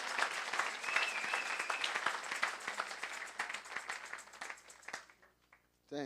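A church congregation applauds with sustained, dense clapping that gradually thins and fades, falling nearly silent before a short, loud burst of noise at the very end.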